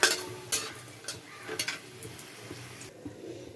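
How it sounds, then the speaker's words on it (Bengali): Bori lentil dumplings fry in hot oil before spinach is cooked, a faint sizzle with sharp clinks and scrapes of a utensil against the pan, quiet and close, with no talking. "তেল গরম হয়ে গেছে, বড়িটা আগে ভেজে তুলে নেব।"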